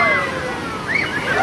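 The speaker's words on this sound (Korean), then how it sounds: "이거 파도풀을 이제 탈 건데, 네, 여기서 파도 내려오면 여기 팍 내려가는 건데, 어, 파도가 옵니다" A wave surges through a wave pool at a water park in Deoksan, Chungcheongnam-do, a steady close wash and slosh of water with a brief swell near the end, while voices talk over it.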